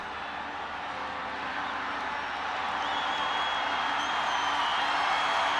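Stadium crowd at a Nepal versus Myanmar international women's football match, a steady, broad roar of many voices and some cheering that swells gradually, heard at a distance with no clear speech.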